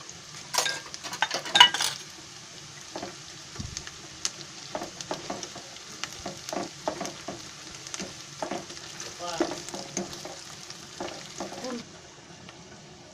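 Chopped onion and ginger-garlic paste sizzle in hot oil while a spoon stirs and scrapes the pan, with intermittent clinks of utensil on metal and a steady frying hiss throughout, close and moderately loud.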